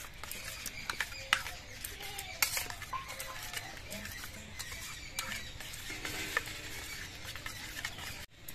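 Yogurt, sugar and mustard oil are mixed in a bowl for steamed eggs, producing faint, quiet scraping and clicking of a spoon against the bowl with a few squeaky strokes, and no talking.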